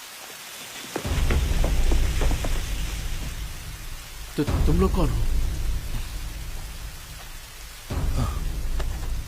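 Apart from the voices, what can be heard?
heavy rain with thunder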